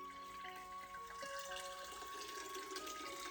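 Hot water dripping and trickling steadily from a heavy lifted grain bag during home brewing, a faint continuous patter and splash with no talk.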